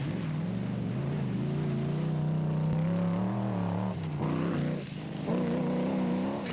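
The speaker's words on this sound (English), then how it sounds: "listen to that engine taking stick in the mud" A Bozel Truggy rally car's engine labours in thick mud during the Lesotho Sun 400 rally in 2006, a loud, strained drone that wavers, dips briefly, then surges again, with no voices.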